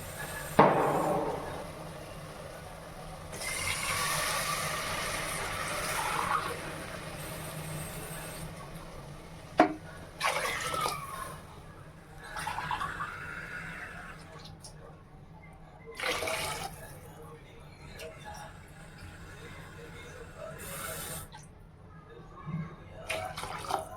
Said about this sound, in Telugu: సో 4 glasses వాటర్ వేస్తున్నాను